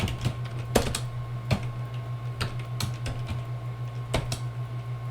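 Fingers tap on a computer keyboard in short, irregular clusters of crisp keystrokes over a steady low electrical hum, nearby and moderately loud, with no talking.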